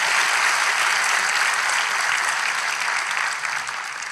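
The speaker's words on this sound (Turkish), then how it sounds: "Coşkun alkış kardeşlerim." Enthusiastic audience applause on a Turkish television talk show, a dense, steady wash of many hands clapping that fills the whole stretch and eases off slightly at the end, with no voices over it.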